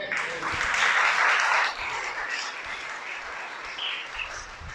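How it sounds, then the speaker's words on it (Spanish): Audience applause at a religious sermon, a broad wash of clapping that swells loud in the first seconds, then eases and carries on at a steady lower level. "Dale un aplauso."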